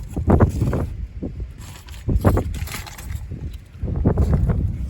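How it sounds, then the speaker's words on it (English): Wind buffeting a microphone in rough, uneven gusts outdoors during rear brake and rotor work on a Hyundai Tiburon, with low rumbling thumps rising and falling. "Sorry about the wind."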